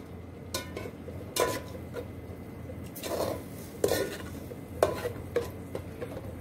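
A spice mix roasts in a pan for a white chickpea gravy, with soft background sizzle and a few distinct scraping stirs and clinks of a spoon against metal, fairly quiet and close.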